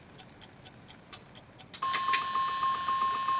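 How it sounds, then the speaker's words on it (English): A kitchen timer ticks softly several times, then breaks into a continuous bright ringing that keeps going to the end. "And that's our timer."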